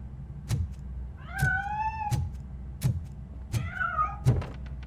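A cat in the video game Robocop Rogue City gives two clear rising-falling meows between sharp, evenly spaced thuds, loud and close with no talking.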